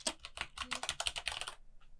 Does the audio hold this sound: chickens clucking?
no